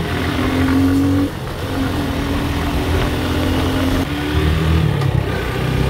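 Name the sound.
motorbikes of a biker group riding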